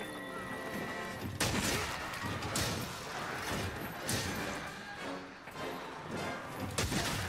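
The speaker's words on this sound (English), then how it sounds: "Gunlance is a close-range weapon that also fires shells." Gunlance shells firing in Monster Hunter World: loud explosive blasts repeating across a dense, busy game mix with crashes and whooshes, several heavy hits standing out over the din.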